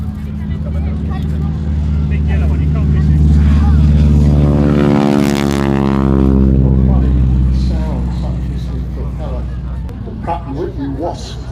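A propeller aeroplane takes off at the Headcorn airshow, its engine drone rising and sweeping past loudly with a clear pitch shift, then fading, while a commentator talks over it throughout.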